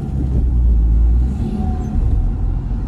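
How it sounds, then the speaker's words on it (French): A car accelerates gently during a driving lesson, with a steady low engine rumble heard from inside the cabin that swells slightly and carries on without any talk. "Tu peux accélérer un petit peu."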